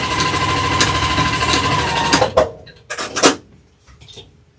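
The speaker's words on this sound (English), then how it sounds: "I'm going to give it a back stitch" Sewing machine running steadily as it back-stitches a beginner baby blanket quilt, a loud continuous mechanical whir that stops after about two seconds, followed by a few short clicks and handling sounds.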